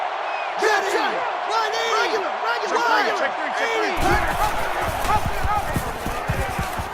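In a football video game, a stadium crowd roars loudly and steadily while a play-by-play commentator talks over it, and the noise swells sharply into a fuller cheer partway through.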